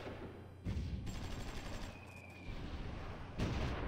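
Gunfire in the strategy game Supreme Ruler Ultimate, faint low bursts of shots and distant booms that swell in three waves with quiet gaps between them.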